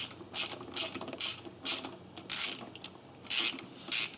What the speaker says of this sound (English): We're gonna break these 2 bolts off this thermostat.